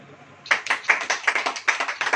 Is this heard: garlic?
no